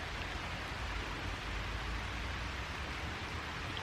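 Steady rain falls throughout at night, a dense, even hiss with low rumble, constant and fairly loud with no breaks.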